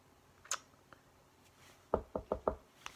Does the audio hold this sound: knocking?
yes